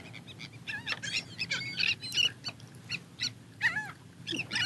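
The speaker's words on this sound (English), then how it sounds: "Man, look at all these birds." Many water birds call over open water at sunrise, a busy overlapping chorus of chirps, squawks and honking cries, moderately near and steady throughout.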